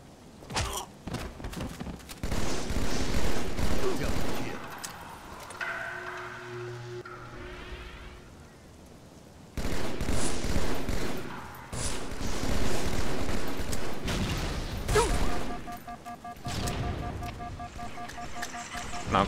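Gunfire and grenade blasts from a Halo 2 two-versus-two match on the map Warlock, with bursts of shooting and thuds sounding near and loud, broken by quieter stretches and electronic game tones.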